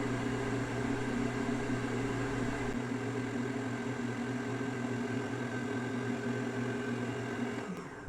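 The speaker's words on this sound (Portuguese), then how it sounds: "Agora eu vou dar só uma batidinha, né, para misturar esse açúcar que estava na lateral." An electric mixer briefly beats egg whites and sugar for homemade ladyfinger biscuits, a steady loud motor whir running continuously before cutting off near the end.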